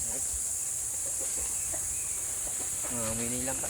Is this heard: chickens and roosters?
yes